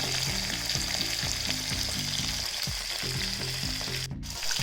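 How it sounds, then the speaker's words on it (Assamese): Pieces of snakehead murrel fish half-fry in hot oil, a loud close crackling sizzle that runs steadily throughout, with a brief break near the end and no voices. "মাছখিনি এতিয়া মই ধুনীয়াকৈ ফ্ৰাই কৰি ল'ম। ফ্ৰাই মানে হাফ ফ্ৰাইহে কৰিম মাছখিনি।"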